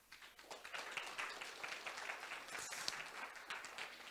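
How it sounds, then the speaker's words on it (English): Conference audience applauding an introduced speaker, a faint, distant wash of many hands clapping that swells and holds steady for several seconds. "Thank you to applaud her."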